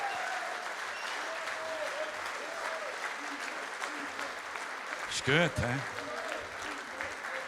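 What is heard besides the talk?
audience applause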